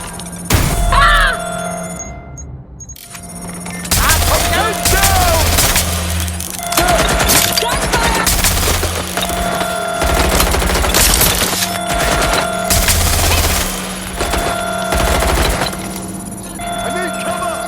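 Bursts of gunfire in the Watch Dogs Legion video game, repeated volleys of loud shots with a steady electronic tone underneath and shouted voices between the bursts.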